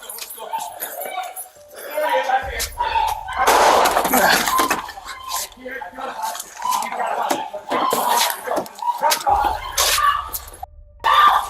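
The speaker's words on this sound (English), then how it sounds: "Shots fired." Several sharp, loud gunshots crack amid urgent police shouting during an armed confrontation with a suspect, with a low rumble underneath and more bangs toward the end.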